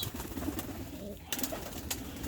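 Soft pigeon cooing inside a loft amid a low, busy background murmur of birds, fairly quiet and continuous.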